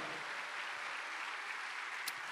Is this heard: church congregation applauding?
yes